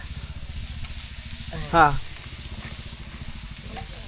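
Chopped onion sizzling in a pan with chili powder, turmeric and salt, a steady soft crackle throughout with a brief louder stir near the middle, under a voice speaking Marathi in a rural kitchen.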